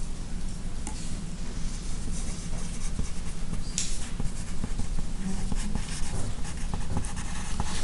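Pen or marker strokes scratching steadily across a surface while electric field lines are drawn by hand, a continuous close scraping texture with no talk.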